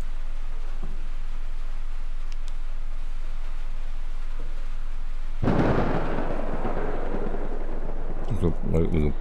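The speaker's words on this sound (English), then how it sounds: "Lightning and thunder." A loud, close thunderclap bursts from rain-like noise in the Escape The Ayuwoki horror game, rumbling on for several seconds, with a faint voice reacting near the end.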